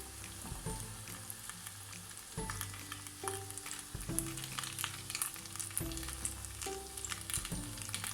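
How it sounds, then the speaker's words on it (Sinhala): Food crackles and sizzles steadily in hot oil while something is cooked for homemade sushi, a close, continuous frying hiss with occasional louder bursts and soft scraping clunks from stirring or turning. "දැන් අපේ තෙල් එක රත් වෙලා තියෙන්නේ. අපි මෙන්න මේ විදිහට දාලා මේක බෙදගමු."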